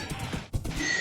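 A Minecraft horse gives a short neigh in a noisy game scene, with a brief breathy whinny and a snort-like burst in the middle of about a second of sound.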